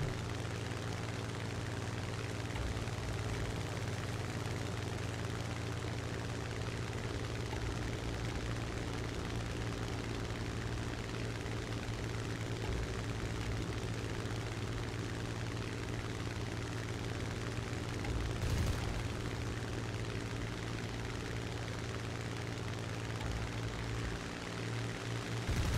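Aircraft engines droning steadily in a video game simulator battle seen from the cockpit, a constant low propeller hum that holds unbroken throughout, with one brief louder burst near the end.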